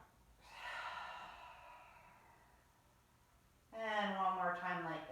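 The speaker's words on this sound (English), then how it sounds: "Big breath in. And gently release." Deep breathing in and out: a long airy breath that slowly fades, then a voiced, sighing release, close and fairly loud.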